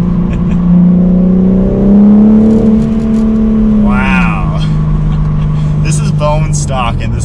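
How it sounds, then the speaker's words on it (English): A 2021 BMW M4 Competition Coupe accelerates under a small bridge, its exhaust note rising through a gear change as a loud, steady engine drone with pitch shifts and brief crackles near the end. "Let's see if we hear any exhaust sounds under this little bridge."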